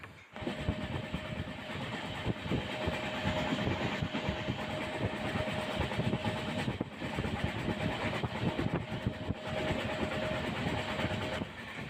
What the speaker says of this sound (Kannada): ಮತ್ತೆ ಹೋದ್ರು ಟ್ರೈನ್ ಸ್ಟಾರ್ಟ್ ಆಗಿದೆ